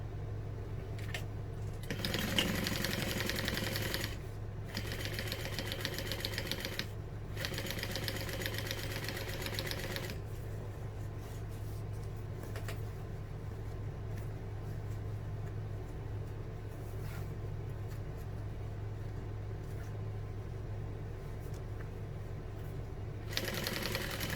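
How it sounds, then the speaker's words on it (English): A sewing machine top stitching a vintage barrel bag whirs in several runs, with short pauses between bursts and a long steady stretch of stitching, heard up close with no voices. "Fold that back out of the way and top stitch."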